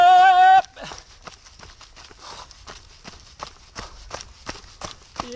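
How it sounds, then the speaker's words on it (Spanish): A boar-scaring device jingles in a steady rhythm with each stride as a runner moves along a hilly trail, with light crunching footsteps underneath after a brief tone at the start. "Esto es el espanta jabalís."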